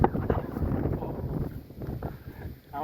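Outdoor wind buffets the microphone, making a continuous, heavy low rumble that swells and dips without a break.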